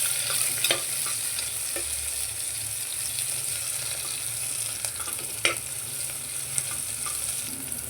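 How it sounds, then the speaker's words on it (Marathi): Chopped onion frying in a pan for masoor masala rice, a soft continuous sizzle with occasional stirring clicks and scrapes, fairly quiet and close. "थोडा कांदा आंबट परतून घेऊया,"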